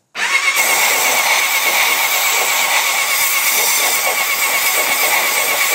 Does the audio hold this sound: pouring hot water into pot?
no